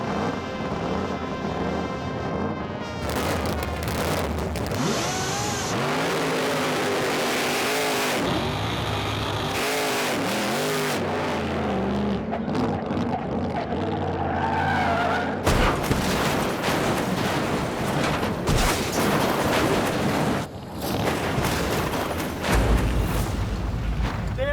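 The 468 cubic inch Hemi of the Hurst Hemi Under Glass, a 2,500-horsepower wheelstanding drag car, roars loud and close throughout, with revving swells, shifting pitch and rough, booming passages.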